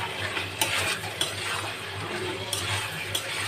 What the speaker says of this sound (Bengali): এবার এটাকে ভালো করে আমি কষে নেব